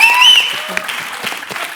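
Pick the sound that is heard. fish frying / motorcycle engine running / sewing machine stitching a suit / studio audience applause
studio audience applause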